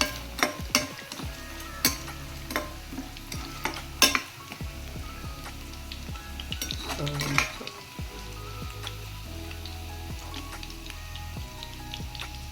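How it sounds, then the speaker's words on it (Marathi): Paneer cubes fry in hot oil in a pan, a close, continuous sizzle broken by sharp crackles, pops and the occasional clatter of stirring, with no speech. "आता तुम्ही बघू शकता हळूहळू सगळं एक एक पनीर फ्राय होत आलं."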